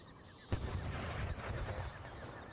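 Cannon artillery fire in the strategy game Empire Total War: one sharp, loud boom followed by a rumbling wash of distant battle noise and scattered crackling.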